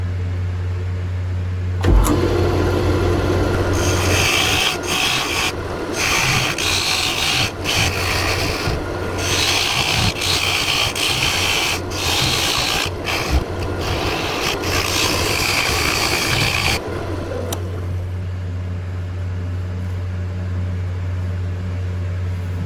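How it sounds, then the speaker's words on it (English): A dovetail tool cuts into corkscrew willow spinning on a wood lathe, a loud continuous rasping scrape with short breaks, set between the steady hum of the running lathe before and after the cut. "Use my new dovetail tool to put a little dovetail in here so the chuck holds better."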